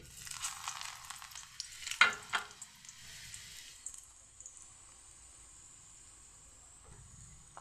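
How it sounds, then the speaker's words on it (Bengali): Chopped garlic hits hot oil in a kadai, a sharp sizzling burst with a few clattering stirs early on, then settling into a faint steady hiss, with no talking. "কড়াতে তেল দিয়ে দিয়েছি, এখন দিয়ে দিচ্ছি রসুন কুচি।"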